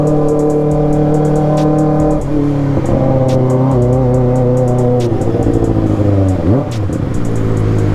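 Kawasaki ZX motorcycle ridden through narrow village streets, its engine loud and close throughout, pitch rising and falling as the rider works the throttle, with wind rush on the mic.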